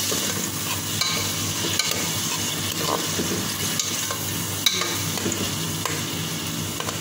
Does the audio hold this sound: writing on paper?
no